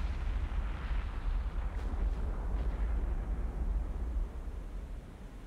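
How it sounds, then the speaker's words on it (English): 6-inch naval guns firing in the War on the Sea naval combat game, producing a loud, dense, continuous rumbling roar of cannon fire that eases slightly toward the end, with no talking. "these 6-inch guns are just beasting it"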